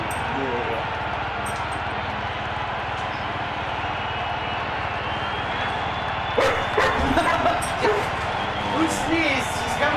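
A dog whimpers and gives short yips and barks close by, mostly in the second half, under a person talking and steady background game noise.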